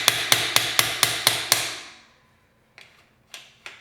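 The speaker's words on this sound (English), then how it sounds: "we're gonna hit that through a little bit more just so we don't damage the spindle" A hammer drives a bicycle crank spindle through with six rapid, evenly spaced metallic blows, then a pause and three lighter, scattered taps, all close and crisp.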